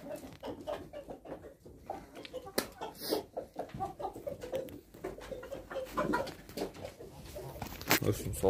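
Hens cluck and murmur nearby in short scattered bursts, mixed with other bird calls and occasional knocks, while a person talks over them.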